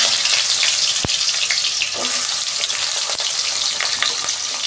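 Potatoes frying in hot oil in a wok: a loud, dense, continuous sizzle with a couple of sharp clicks, close and without talk.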